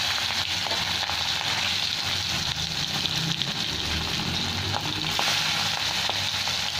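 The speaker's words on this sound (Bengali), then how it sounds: "তেল খুব গরম হয়ে গেছে, মাছগুলো দিয়ে দেবো।" Fish pieces rubbed with salt and turmeric fry in very hot oil, a dense continuous sizzle with occasional pops and spatters, close and steady with no voices.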